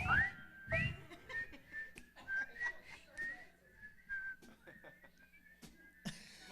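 Concert audience at a performance whistling along in scattered, overlapping tones, with a clear rising whistle at the start and thinner whistles continuing through a fairly quiet hall.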